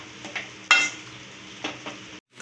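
Ground coconut and mint being stirred into a masala in a pan for kudal gravy: a soft sizzle under scraping spoon strokes, one sharp metallic clack near the start, then a few lighter scrapes before it cuts off.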